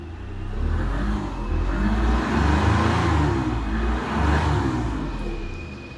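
A Citroën XM engine, first started after about 20 years stored in a barn, revs up and down in slow, uneven surges, reluctant to rev, loud and close.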